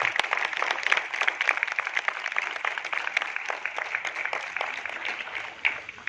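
A crowd at a national yogasana competition event applauds the organizing committee, with dense, continuous clapping that holds at an even level for several seconds before tapering slightly at the end.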